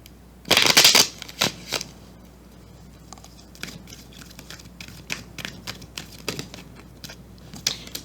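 Tarot cards are shuffled close up: a loud riffling burst at the start, then scattered soft card flicks and taps in a quiet room.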